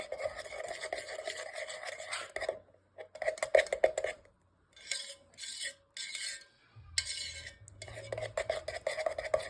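A utensil stirs melted wax in a pot, giving soft scraping and clinking strokes in uneven bursts with short pauses between them, close and fairly quiet.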